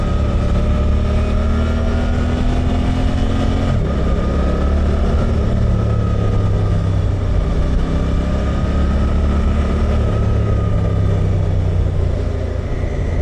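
A Suzuki GSX-8R motorcycle rides along a road. Its engine holds a steady, close drone mixed with wind rush, and the pitch dips and rises as it changes speed.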